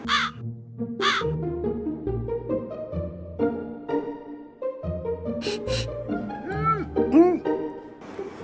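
A crow caws in a few loud, harsh bursts near the start and again later, set over a steady musical backing with tonal swells.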